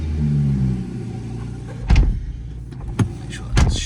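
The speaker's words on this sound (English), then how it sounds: "Let's start the car up." A BMW 440i Gran Coupe M Sport engine starts up close by: a starter whirr, then a few firm engine bursts settling into a low idle rumble, with no talking.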